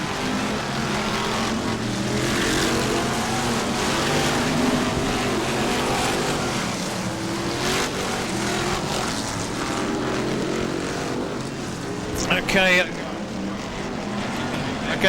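BriSCA Formula 1 stock cars roar around the Northampton oval in a steady, continuous engine drone, with a commentator talking over the racing throughout and a brief sharper burst of noise near the end.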